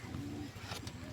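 A pigeon cooing close by, a couple of soft, low, throaty coos in quick succession against a faint background hum.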